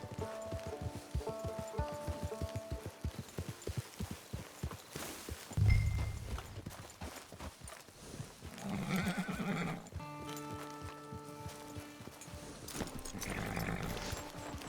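A horse in the Red Dead Redemption 2 video game: hooves clip-clop in a quick walking rhythm, then a loud whinny breaks out, followed by snorting and further neighing close by.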